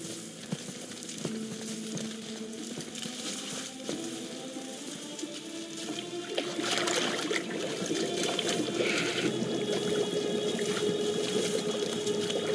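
In the video game God of War, a head is held underwater, giving continuous churning, bubbling water that grows louder partway through, with steady tonal game music and ambience underneath.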